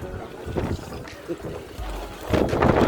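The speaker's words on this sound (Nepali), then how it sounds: "यहाँ चाहिँ अब हावा चल्न थालेको छ, एकदम गाह्रो छ" Gusty wind buffets the microphone in low rumbling bursts at night at Swayambhu, Kathmandu, Nepal, with people talking and a strong surge near the end.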